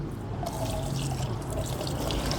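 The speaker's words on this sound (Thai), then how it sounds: "ใช้น้ำเปล่าล้างออกนะครับ" Plain tap water rinsing a BMC air filter, a steady, fairly loud splashing and running stream over a sink with no pauses and no voices.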